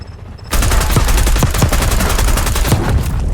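Loud, dense video game gunfire bursts in abruptly after a short lull and continues as rapid automatic shooting with close booming reports, with no one speaking over it.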